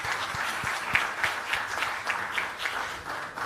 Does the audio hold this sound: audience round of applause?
yes